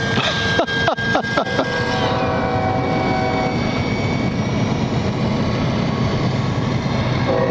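An RC model Horten BV-38 German concept bomber runs at full throttle, giving a loud, steady motor roar close by that holds without a break, with a few sharp knocks near the start.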